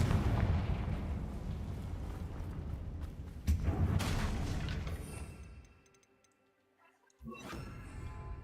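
Confringo blasting-spell explosions in Hogwarts Legacy, loud booming blasts and crackling debris filling most of the span, a sharp hit near the middle, then a brief lull before more action resumes.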